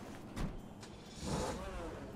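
Ferrari engine in GTA 5 revving twice in short bursts, moderately loud, with a steady idle hum between the rises.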